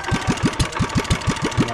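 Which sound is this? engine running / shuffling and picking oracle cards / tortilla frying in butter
engine running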